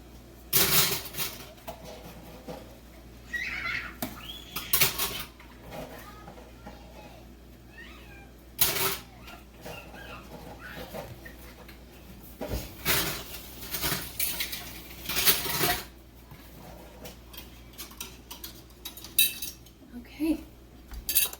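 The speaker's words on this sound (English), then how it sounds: "Here's my little cloth, and I'm just wetting it, and then I'm just going around" Glass canning jar rims being wiped with a vinegar-dampened cloth, giving scattered light clinks and rubbing scrapes of glass at close range, with sharper knocks as jars are handled and a cat meowing faintly now and then.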